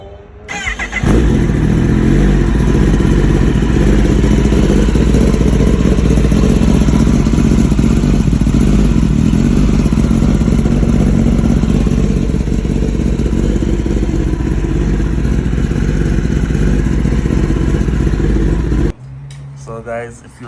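A Kawasaki Ninja ZX-10R motorcycle engine runs during an oil change, starting with a burst then holding a loud, steady idle for nearly twenty seconds before cutting off abruptly.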